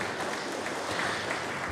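Brief, moderately faint clapping from a crowd welcoming a player at a women's football club squad presentation.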